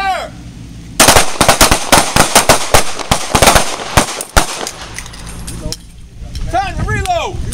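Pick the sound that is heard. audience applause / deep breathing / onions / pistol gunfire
pistol gunfire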